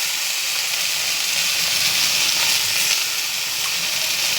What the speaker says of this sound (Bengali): তার আগে মাছ ভেজে রেখে দিচ্ছি